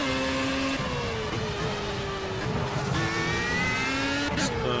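Race car engine in Project CARS at the Suzuka-style Sakitto GP track, a steady high revving drone with shifting pitch as gears change, loud and continuous throughout, with tire noise underneath.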